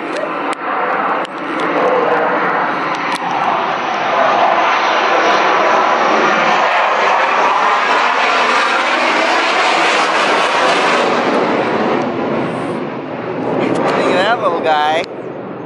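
Propeller airplanes flying low over a beach, a loud droning engine roar that swells and lingers overhead for several seconds, with a voice talking faintly beneath it.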